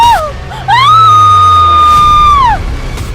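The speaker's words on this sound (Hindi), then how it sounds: "जब उस तेज धार शीशे से नेहा का गला कटा तो एक दबी सी चीख उसके मुंह से निकली" A woman's stifled scream used as a horror story sound effect: one loud, sustained, high wailing cry that holds steady for about two seconds before dropping away, with a brief yelp just before it.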